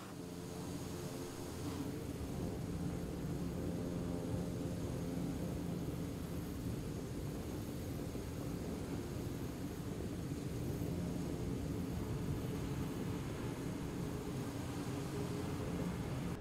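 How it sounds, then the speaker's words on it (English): FSReborn FSR500 airplane taxiing in the MSFS2020 flight simulator, a steady droning engine hum with broadband rushing noise that holds constant throughout, with no voices. "we just need to give it a little bit of throttle to get the airplane moving."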